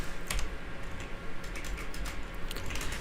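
Someone types a command into AutoCAD on a computer keyboard, producing a run of soft, quick key clicks in small irregular clusters, close by and fairly quiet, with no voices.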